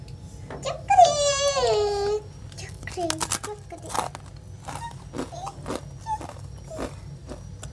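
Crunchy homemade peanut crackers (peyek kacang) are bitten and chewed in a series of sharp, close crunches spread across several seconds, following a short child's vocal sound at the start.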